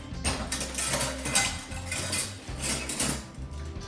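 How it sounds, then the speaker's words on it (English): A big ladle clinks and scrapes against a pot while scooping creamy potato and ham soup, several quick metallic knocks and rattles at close range, with no talking. "So let me get my big ladle spoon here."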